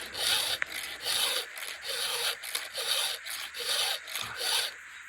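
A metal chainsaw chain being hand-filed to sharpen it gives a close, rhythmic rasp, with about a dozen quick strokes each followed by a brief pause, steady and moderately loud, with no voices.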